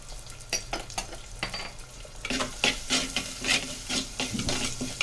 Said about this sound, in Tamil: வெங்காயம் நல்லா வதங்கி வரணும்